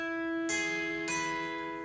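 A major chord strummed on a guitar, ringing with sustained harmonics, then struck a second time about half a second later, the two strums close and clear with no talking.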